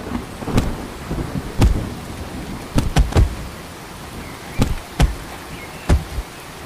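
Rain with rumbling thunder in a cartoon scene: a steady hiss of rainfall broken by several sharp, loud thunder cracks at irregular intervals, close and full, with no talking.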